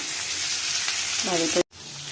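Vegetable dal cooking in a home kitchen as a fried ingredient goes into the pan, giving a steady close sizzle with brief tonal scraping, then a sudden cut before the frying resumes.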